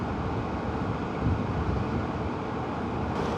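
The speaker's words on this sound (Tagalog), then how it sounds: "Sarap ng hangin." Steady wind rushes past the microphone in a low, continuous buffeting roar with no breaks.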